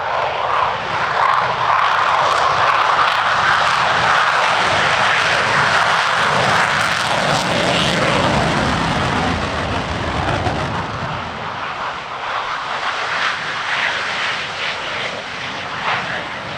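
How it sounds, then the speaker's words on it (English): A Fiat G91 jet roars loudly and continuously overhead at a military airshow, with a broad, sustained engine rush that eases slightly toward the end. "The G91 performed a legend formation with 2 other Italian Air Force ground attack aircraft"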